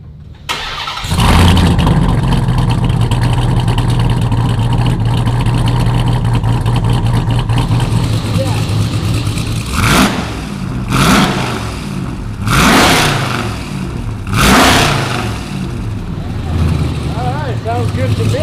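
A Ram TRX pickup swapped with a supercharged Hellephant V8 cranks and fires on its first start, settling into a loud, heavy idle. Several sharp throttle blips follow in a row near the end, with voices nearby.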